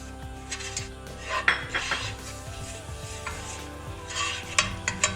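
Butter and flour being stirred in a pan on the stove, with quiet scraping and clinking of a utensil against metal over a faint sizzle, close and fairly soft.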